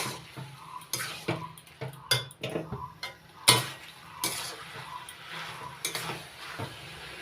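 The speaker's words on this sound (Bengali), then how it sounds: "দিয়ে দিচ্ছি হাফ চামচ হলুদ ও সব কিছু একসঙ্গে মিশিয়ে নেব ভালো করে" Prawns and taro greens being mixed with turmeric in a pot: a string of irregular spoon scrapes and clinks against metal, close and fairly quiet, with no talking.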